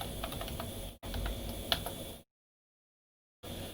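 Quick bursts of keystrokes on a computer keyboard as a password is typed, close and fairly quiet, stopping for a second of silence before another short run of taps.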